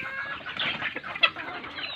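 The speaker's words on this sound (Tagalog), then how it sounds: "native chicken nga yun ating manok" Native chickens cluck and squawk nearby in a farmyard, a busy flurry of overlapping calls with one sharper loud cry near the middle, no voices present.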